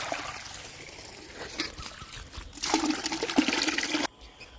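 Water is poured into a freshly dug planting hole in sandy soil for an Amrapali mango sapling, a steady splashing trickle that swells louder near the end, then stops abruptly.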